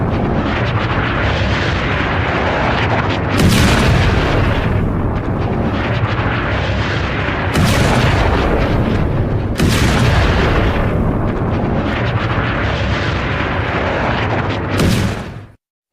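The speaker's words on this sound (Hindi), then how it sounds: "ये एक और हमला है, इजरायली हमला, जो हिजबुल्लाह के ठिकाने पर है।" Explosions from an Israeli strike on a Hezbollah position: a sustained loud rumbling roar with several sharp booming blasts punctuating it, steady and heavy until it cuts off near the end.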